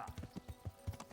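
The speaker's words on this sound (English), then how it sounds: "There's my horse." Horse hooves clip-clopping in a video game, a quick run of soft, evenly spaced hoof strikes, close and fairly quiet, with a faint whinny-like tone early on.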